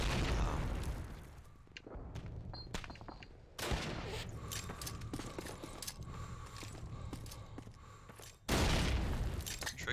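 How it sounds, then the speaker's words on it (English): A grenade bursts in Call of Duty: United Offensive, a World War II shooter, in a tournament match, with heavy booms at the start, midway and near the end amid constant crackling gunfire. "Trick nade there by X-rated."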